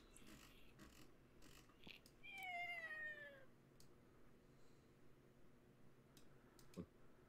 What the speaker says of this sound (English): Keep hearing cat noises.